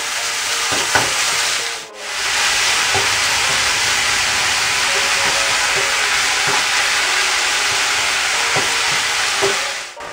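Emu meat sears in a hot pan with a steady, loud sizzle and hiss that runs throughout, broken by one brief dip and a few faint scrapes and pops, no talking.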